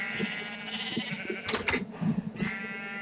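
Sheep in Minecraft bleat softly a couple of times over a steady low game backdrop, fairly quiet and without talk.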